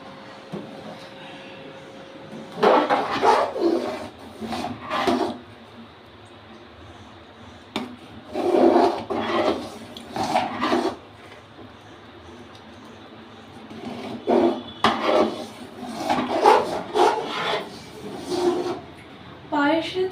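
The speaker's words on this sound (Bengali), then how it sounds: "এখন চালটাকে দুধের সাথে অনবরত নেড়ে যেতে হবে যাতে চালগুলো হাড়ির তলায় লেগে না যায়" A spoon stirs rice in milk in a cooking pot for payesh, giving repeated bursts of scraping and sloshing against the pot. Quiet pauses separate the strokes.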